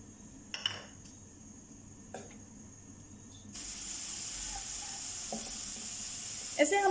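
Garlic ginger paste drops into about two tablespoons of hot oil in a kadhai and bursts into a steady sizzling hiss, preceded by a few metallic clinks of utensils against the pan. A louder clatter comes at the end.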